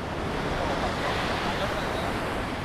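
Strong surf at a beach near a mountain coastline, a steady broadband wash of breaking ocean waves with wind buffeting the microphone, loud and continuous throughout with some faint voices in the background.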